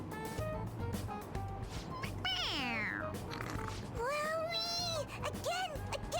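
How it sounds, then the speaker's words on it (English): Repeated meows from a squeezable toy cat in the video game Persona 5 Royal, several rising and falling cries in quick succession over steady background game music. "It's, a toy. It meows when you press on its head."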